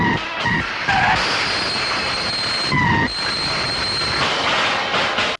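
Loud rumbling noise from two approaching trains in a film scene, with metallic wheel squeal and screeching tones, continuous and close, rising and falling over several seconds.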